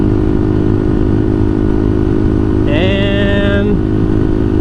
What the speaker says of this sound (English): Fifth gear, shift it up into fifth.